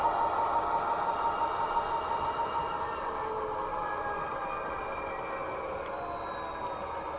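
A Norfolk Southern model train locomotive runs on a small loft layout, giving a steady, continuous mechanical hum with a faint high whine that holds level and close throughout, with no talking.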